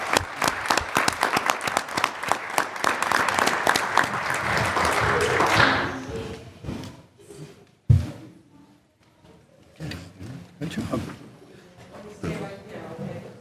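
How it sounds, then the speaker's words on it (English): Audience applause at a city council meeting honoring winners, loud rhythmic clapping for about six seconds that stops abruptly, followed by scattered claps, a thump and quiet murmuring in the room. "a round of applause for our winners"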